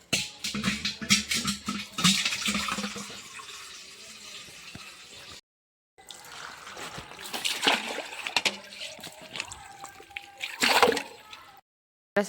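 Tap water runs at full flow into a child's bathing tub, splashing and gurgling in uneven bursts broken by two short silent gaps.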